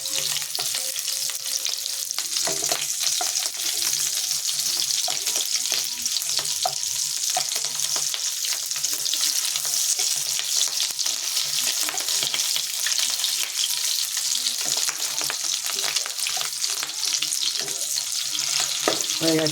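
Fish roe fries gently in a pan over low gas, giving a dense, even, close crackling sizzle that runs on without pause, with faint stirring and no voices.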